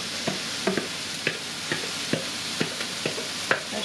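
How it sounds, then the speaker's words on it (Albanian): Leeks fry in a pan with a bit of oil, a steady hiss punctuated by regular soft stirring scrapes about twice a second, close up and alone. "Do shtojmë preshin."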